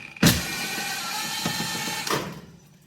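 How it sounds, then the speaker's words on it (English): Cordless screwdriver backing a small screw out of a stove's rear cover, one steady whirring run of about two seconds opening with a sharp click, close and fairly loud. "So just pop the little screws out."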